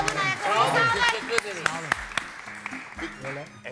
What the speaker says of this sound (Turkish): Harika alkışlıyoruz onları